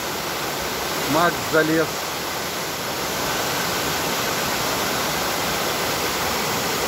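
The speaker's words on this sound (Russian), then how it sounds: "у нас вот здесь вот водопад" A waterfall in Vietnam roars in a steady, dense rush throughout, with someone speaking briefly over it near the start.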